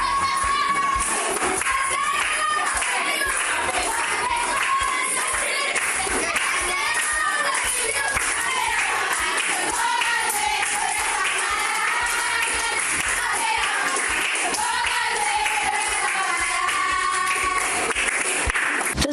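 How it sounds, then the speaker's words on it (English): Schoolchildren in a classroom at a Grenada government school sing gospel hymns at lunchtime, clapping and cheering along; the singing voices are continuous and fairly loud, with rhythmic clapping mixed into the chorus. "Students can be seen clapping and cheering as they sang gospel hymns during their lunchtime"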